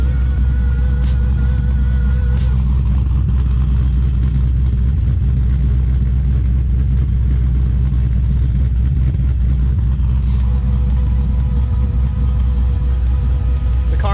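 A cold start of an LS-swapped BMW E36 drift car with a Brian Tooley Racing DTR Stage 2 cam: a loud, steady, lumpy idle rumble with a brief revving flare at the start, no talking.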